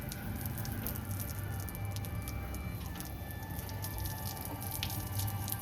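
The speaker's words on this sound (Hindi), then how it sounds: "और अब मैं थोड़ा छत पे यहाँ से पानी डाल रहा हूँ।" Water poured by hand onto a house rooftop during rain, giving a steady close patter and splash with small drips, continuous and even throughout with no talking.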